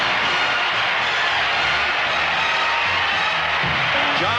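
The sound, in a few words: stadium crowd giving Johnny Unitas an ovation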